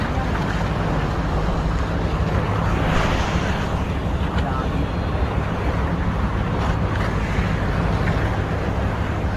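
Boats out on open water, a continuous wash of wind, waves and engine drone with steady rumble underneath and no clear breaks, heard close with wind buffeting the microphone and faint talk.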